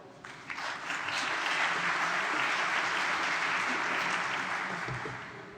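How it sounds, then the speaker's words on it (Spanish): An audience at an academic conference session applauds, a broad, even wash of many hands clapping that swells quickly, holds steady for several seconds, then tapers off, heard from within the room. "Un aplauso,"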